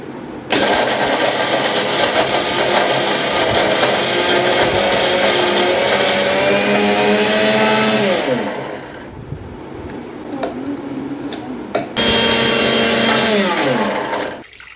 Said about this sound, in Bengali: আমি মিক্সিতে দিয়ে এগুলো একটুখানি ডাস্ট করে নেব